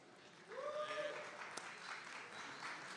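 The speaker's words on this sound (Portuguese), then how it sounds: "salva de palmas" Applause from a conference audience welcoming a speaker to the stage rises after a short pause as a soft, steady patter of clapping, faint and distant, with a voice calling out over it.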